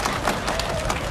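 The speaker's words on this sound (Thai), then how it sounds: "ขออนุญาตปรบมือให้ท่านรัฐมนตรีว่าการยุทธพงศ์จรัสเสถียร" A crowd at a large Thai political rally in Maha Sarakham claps for minister Yutthaphong Charasathien, producing a continuous dense wash of applause with scattered cheering, loud and close throughout.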